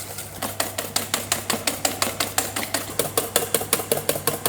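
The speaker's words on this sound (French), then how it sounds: "Tout en continuant à bien fouetter." Steady rhythmic whisking of egg yolks and sugar in a bowl as hot liquid is poured in, each quick metal stroke ticking against the bowl in an even, brisk beat, close and alone.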